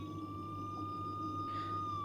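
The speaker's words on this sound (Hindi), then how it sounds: "जब सायरन मारती हुई गाड़ियां मोहल्ले की गलियों से गुजरी" A steady siren tone from vehicles passing through narrow neighbourhood lanes at night holds over low rumbling traffic noise, sounding fairly close and continuous without any spoken voices.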